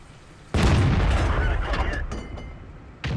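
Artillery fire in a war video game: a sudden loud booming shot with a deep rumbling tail that decays over a couple of seconds, followed by a second sharp onset at the end.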